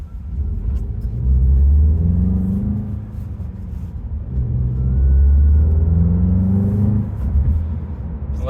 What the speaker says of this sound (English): Let the engine warm up before I get on it too much